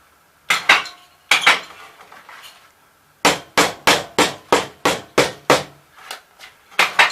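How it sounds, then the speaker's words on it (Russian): A hammer taps filter mesh pressed around a homemade well filter pipe, giving two sharp metallic strikes and then a steady run of about nine evenly spaced, ringing knocks, loud and close with no talk. "Здесь первый круг полностью обстукиваем."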